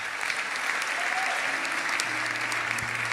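A church congregation breaks into dense, sustained applause during a worship service, a steady wash of clapping filling the room with faint voices underneath.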